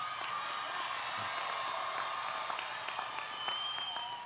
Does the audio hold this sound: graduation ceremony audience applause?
yes